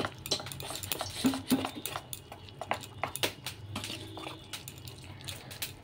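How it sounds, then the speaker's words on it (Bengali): Lentil and rice batter for fried pakoda is stirred in a bowl, giving soft, rapid clicking and scraping taps of a utensil in an irregular rhythm, fairly quiet and close. "এবার এটা ভালো করে মিশিয়ে নেব।"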